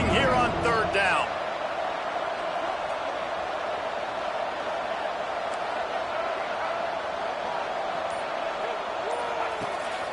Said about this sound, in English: This Boise State crowd bringing the noise. It's deafening here on 3rd down.